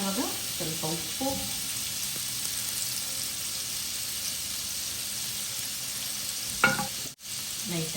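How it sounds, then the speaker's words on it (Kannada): Prawns frying in butter in a home kitchen pan give a steady, close sizzle with occasional stirring clatter and a brief sharp knock near the end. "ಬಟರಲ್ಲಿ ಫಸ್ಟಿಗೆ ಪ್ರಾನ್ಸನ್ನು ಫ್ರೈ ಮಾಡೋಣ"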